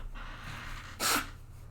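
A single short, sharp sneeze bursts out close by after a moment of quiet breathing, against a faint low hum.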